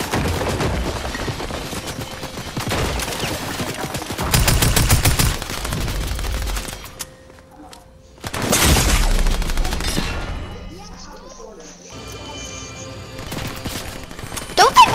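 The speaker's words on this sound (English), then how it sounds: "Stop shooting your base." Rapid bursts of automatic gunfire and heavy shots from the video game Fortnite, loud and close, come in several dense volleys with short gaps between them, mixed with game effects and players talking.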